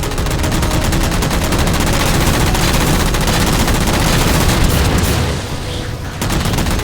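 Continuous rapid gunfire in the Halo 4 video game as jammers are shot down, loud and dense with steady automatic bursts, pausing briefly near the end before resuming.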